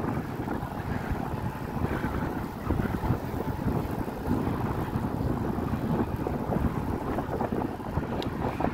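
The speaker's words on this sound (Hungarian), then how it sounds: "Mintha itt lenne szél." Wind gusting across a microphone at an outdoor swimming beach on a clear day, a loud continuous rumbling roar that carries through the whole stretch with no pauses.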